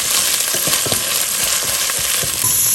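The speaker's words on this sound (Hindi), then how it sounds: "1 टेबलस्पून जो है मैंने अदरक लहसुन का पेस्ट ऐड कर दिए" Ginger garlic paste frying with browned onions in a pan, a loud, close, continuous sizzle with occasional stirring scrapes and no voices.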